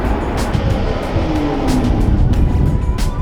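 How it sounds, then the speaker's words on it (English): A BMW M235 engine roars loud and steady nearby, a dense throaty rumble with a slowly rising pitch, no talking over it. "M235. Makes a good noise."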